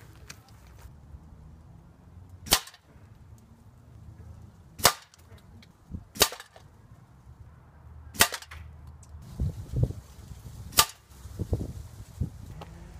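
Air Arms S510 Extra FAC and Benjamin Marauder .22 air rifles firing JSB heavy pellets: six sharp, close cracks spaced a second or two apart, with quiet handling clicks and rustle between shots.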